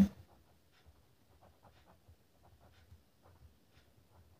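A pen scratches across paper in short, quiet strokes, a faint irregular series of scribbles set against near silence.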